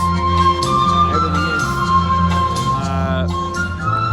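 Loud, sustained ceremonial horns blare together in a steady droning chorus at a wedding hall in India, with a voice speaking briefly over the din.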